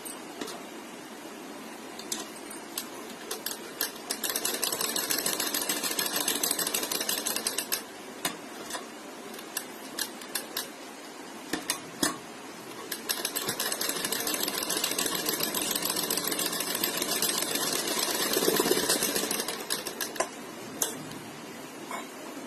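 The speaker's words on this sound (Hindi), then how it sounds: "अब इसको ऐसे फोल्ड करेंगे और इस सिलाई के ऊपर हम दोबारा सिलाई लगाएंगे।" A sewing machine stitches a sleeve in two long, steady runs of rapid mechanical clatter, separated by a pause filled with a few isolated clicks and handling sounds.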